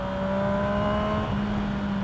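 Motorcycle engine on a downhill road heading into a long left-hand curve as the rider closes the throttle, a steady droning tone with a faint pitch drop, continuous and fairly close under wind rush.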